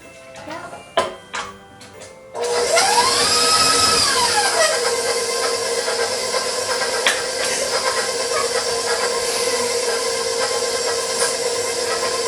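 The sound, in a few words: electric mixer creaming ingredients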